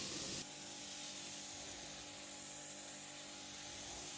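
Water broom attachment on a Karcher K7 pressure washer spraying while cleaning a Mini car, a steady loud hiss of water jets over a low pump drone, continuous throughout.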